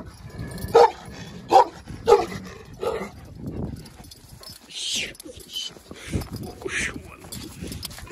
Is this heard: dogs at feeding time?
yes